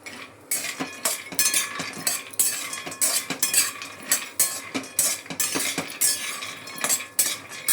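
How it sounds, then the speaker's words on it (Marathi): Spices or nuts being roasted and stirred in ghee in a pan, a spoon clinking and scraping against the metal in a steady, repeated rhythm close by, with a faint sizzle underneath. "जर असे अगदी 2 मिनटं फक्त शेकून घ्यायचे तुपामध्ये."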